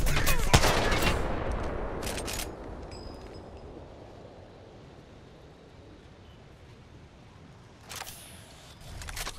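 Bursts of Apex Legends gunfire hit hard at the start, with a few more shots around two seconds. A quieter stretch follows, then another short burst near the end.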